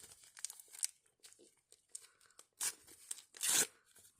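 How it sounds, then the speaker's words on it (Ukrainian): Crinkling and tearing of a thin plastic packet, with a couple of sharper rips near the end, close and fairly quiet, with soft voice sounds in between. "Вже пакетик відкрився сам."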